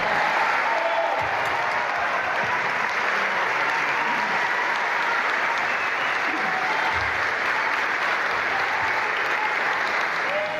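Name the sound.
audience of business people applauding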